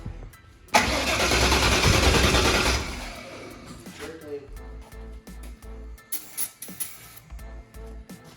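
A small-block Ford V8 is started for the first time, cranking and catching into a loud, steady roar for a couple of seconds. It then drops to a lumpy, stumbling idle with intermittent pops while people talk nearby.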